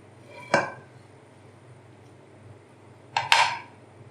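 A utensil cuts into soft, freshly baked chicken lasagna with melted cheese in a glass bowl, giving two distinct clinks and scrapes against the glass, an isolated one first and then a louder double knock, in an otherwise quiet room.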